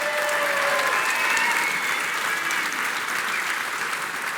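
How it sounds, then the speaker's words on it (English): An audience gives sustained, close applause with scattered whistles at a live Isle of Man TT Races podcast event celebrating John McGuinness's 30 years, the clapping dense and even before easing slightly toward the end. "John McGuinness, on behalf of Lee Johnston, can we have a round of applause for this wonderful man?"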